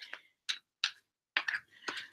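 A deck of tarot cards is shuffled up close during a live weekly reading, giving five or six short, crisp papery bursts separated by brief pauses, with no talking.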